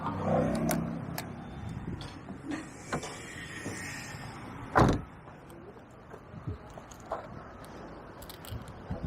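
A used 2008 car's door is opened at close range: scattered clicks and latch sounds, then a sharp louder clunk midway, followed by lighter rattles and taps.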